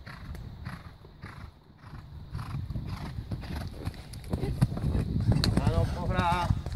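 Horse trotting during a training session, rhythmic clip-clop hoofbeats with a brief whinny near the end, under a rider's or trainer's spoken encouragement.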